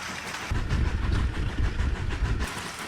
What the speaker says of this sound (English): what if we send the train underneath the car? So I added some tracks below it, and let's see if the train can fit.